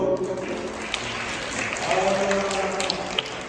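A congregation applauds at a children's Christmas Mass, a steady wash of clapping with voices mixed in underneath.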